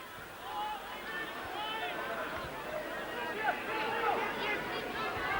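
A rugby league crowd at Oldham versus Castleford in 1989 murmurs and calls out in a steady distant hubbub, with whistles and shouts rising toward the end under a commentator's talk.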